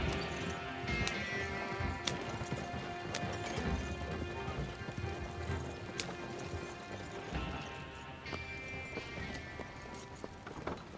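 Horse-drawn wagon rolling along in Red Dead Redemption 2, with steady clip-clop hooves and rumbling wheels filling the scene continuously, close and even in level, with brief sharper knocks and creaks.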